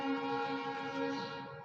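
A train horn blows, a steady tonal blast held at moderate distance that fades slightly toward the end.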